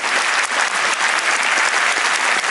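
A theatre audience gives sustained, dense applause at the fifth-performance curtain call of a stage musical about Charles Kao, loud and continuous throughout.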